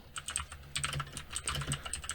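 Rapid typing on a computer keyboard, a steady run of light plastic key clicks close by and alone, with no talk over it.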